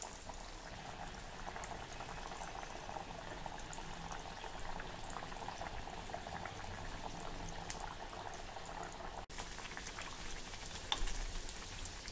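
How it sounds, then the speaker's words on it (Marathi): A vada deep-frying in hot oil over a medium flame, giving a steady, dense bubbling sizzle that stays even and close throughout, with no talking. "मध्यम गॅसवर हा वडा छान खरपूस आपल्याला तळून घ्यायचा आहे"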